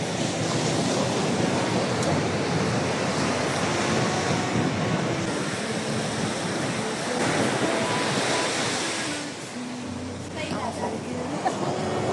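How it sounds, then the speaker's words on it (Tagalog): Ocean surf washes continuously onto the beach at Aureo Resort in La Union, with broad roaring waves and gusty wind buffeting the microphone, fairly loud and steady, while a person talks over it. "Siyempre, laki ng dagat. Kita talaga ang dagat."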